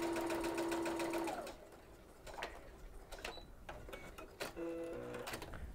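A sewing machine fitted with a Teflon non-stick foot runs a straight stitch through textured laminate fabric, a steady fast whirring hum that stops, pauses briefly, then starts again, close and clear with no speech.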